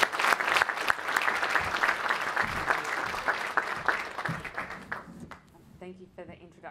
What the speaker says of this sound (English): join me in giving her a welcoming round of applause